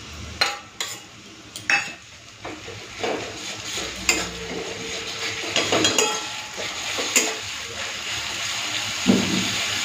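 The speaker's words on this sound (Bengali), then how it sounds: "এখন আমি এই বাটা আদা রসুন আর শুকনো লঙ্কা বাটাটা দিয়ে দিচ্ছি।" Ginger, garlic and dried chilli paste going into browned frying onions for a Bengali mutton and potato curry, with repeated sharp clinks and scrapes of a spoon against the pan over a steady low sizzle, close by.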